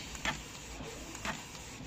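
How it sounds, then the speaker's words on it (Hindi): A Canon color printer feeds and prints a page with a steady mechanical whir and two brief louder pulses of the paper moving through. The sound is close and continuous, with no voices over it. "देखिए ये कैसे धीरे धीरे आ रहा है। ओ माय गॉड, ये सच में कलर होके आ रहा है।"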